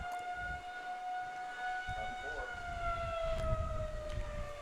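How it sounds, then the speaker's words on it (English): An emergency warning siren in Madison County sounds as a steady, sustained wail with a slowly falling pitch. It holds throughout at moderate distance over outdoor background noise. "here comes our emergency warning siren"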